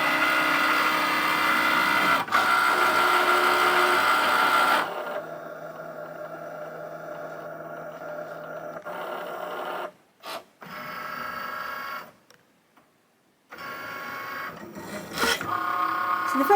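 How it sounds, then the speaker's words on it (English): A Cricut cutting machine scores a shaker card on its mat, a steady mechanical whirring and scraping that runs for several seconds, then stops and restarts in shorter bursts with brief pauses between. "the machine is going to score for us."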